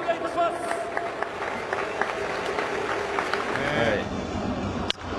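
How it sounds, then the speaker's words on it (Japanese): Baseball stadium crowd in Japan applauding and cheering after a home run, a dense, steady roar of clapping and voices throughout, with announcer-style speech over it. "では浅村選手に今一度大きな拍手をお願いいたします。"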